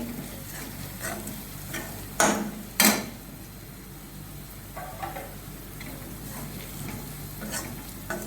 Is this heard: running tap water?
no